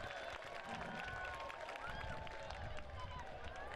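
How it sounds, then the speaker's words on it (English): Stadium crowd at a women's professional soccer match, Washington Spirit against Racing Louisville, giving a steady, broad roar of cheering and clapping that fills the whole stretch at a moderate distance. "And you hear the crowd."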